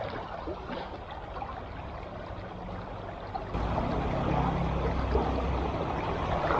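River water flows and gurgles steadily around a wading angler crossing a grayling fly-fishing river, a constant close wash that grows louder partway through, with no talking.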